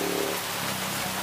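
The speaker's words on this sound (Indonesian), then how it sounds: "Soalnya hujan nih" Rain pours steadily over an open-air street food stall at a Jakarta crossroads, a dense, even hiss filling the air with no pauses, fairly loud and close.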